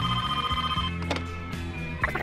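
A telephone rings steadily over a busy musical background, its bell tone continuous and fairly loud for about two seconds.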